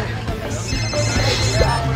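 A mobile phone rings with a bright electronic tone, layered over a low steady hum and background noise.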